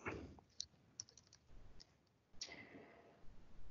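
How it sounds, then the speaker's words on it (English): Typing on a computer keyboard, scattered key clicks in short irregular bursts with pauses, close and fairly faint, no talking. "I'm typing this out bit by bit."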